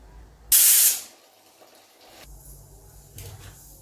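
A pressure cooker of cowpea aamti lets out a short, loud burst of hissing steam at its whistle, about half a second long, then fades to quiet clatter and a faint low hum.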